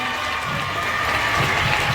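A family clapping together indoors, a dense, steady burst of applause lasting a couple of seconds with no clear voices above it.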